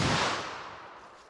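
.357 Magnum handgun firing a Federal Power-Shok lead hollow point into plain ballistic gel, one sharp loud report that decays over about a second with no voices.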